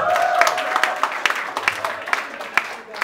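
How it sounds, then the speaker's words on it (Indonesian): Applause breaks out from the crowd at a stage magic show in a warung, uneven claps scattered across a steady background of voices and a faint held tone. "Dan sekali lagi tepuk tangan untuk semua yang ada di Gepetto."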